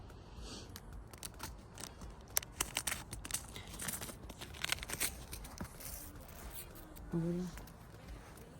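Crinkly tearing and rustling of a lavender seed packet being opened up close, with sharp crackles throughout and a brief voice near the end.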